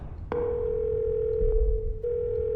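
A telephone rings in a horror video game as a sustained electronic tone, steady and fairly loud, with a brief break and dip before it carries on, over a low background rumble.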